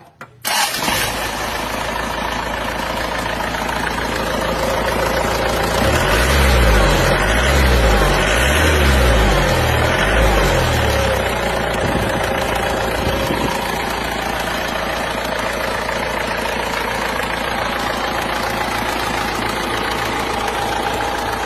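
A rebuilt engine, freshly fitted with a reground crankshaft, new bearings, turned liners and new rings, cranks and fires up, then runs steadily at a loud, close idle with a brief surge in revs early on.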